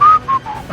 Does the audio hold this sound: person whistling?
yes